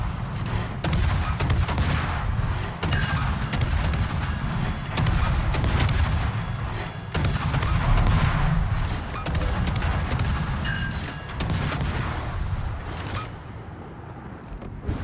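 Rapid naval gunfire from the destroyer Daring in World of Warships, dense repeated booming salvos with sharp shot onsets throughout, loud and continuous over a battle soundscape.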